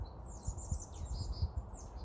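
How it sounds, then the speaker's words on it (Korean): Several small birds chirp and trill on a wooded mountain trail, a steady chorus of high, quick calls with low rustling footsteps beneath. "새소리 들리시죠?"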